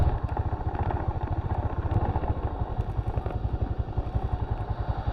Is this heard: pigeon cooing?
no